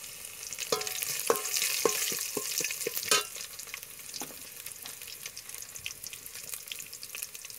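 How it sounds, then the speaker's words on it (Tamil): Crushed garlic dropped into hot oil while cooking village-style idli sambar, a burst of bright sizzling with a few sharp crackles and stirring clinks that settles into a quieter, steady fry. "இப்போ தட்டி வச்ச பூண்டையும் போட்டுடுவோம்."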